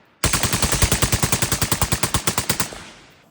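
Rapid automatic gunfire from a Spear LT rifle fitted with a muzzle brake, about twenty close, loud shots in an even fast rhythm lasting nearly three seconds, with no talk.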